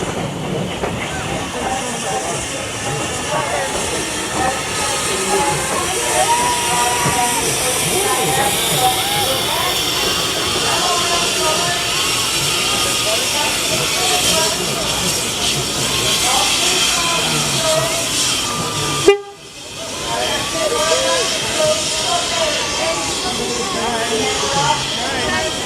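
Steam locomotive 60163 Tornado rolls into a heritage railway station with a continuous hiss of steam and rumbling wheels, loud and close, with one brief break, while a station announcement plays over it.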